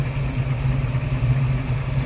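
A 1932 Ford Deluxe 5-window Highboy Coupe with headers, HEI ignition, an L block intake and a carburetor idles smoothly close by. The low, steady rumble holds an even pulse throughout and no one speaks.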